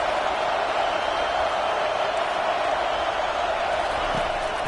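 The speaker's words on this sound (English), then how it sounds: "Decibels rising as the crowd gets behind this defense on 3rd down" Football stadium crowd roaring for the defense on a 3rd down play, a dense, steady wall of cheering noise held at a constant loud level throughout with no distinct voices standing out.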